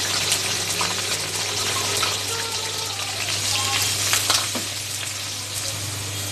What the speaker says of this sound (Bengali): প্রথমে পেঁয়াজ আর কাঁচা লঙ্কাটা আমরা ভেজে নিচ্ছি।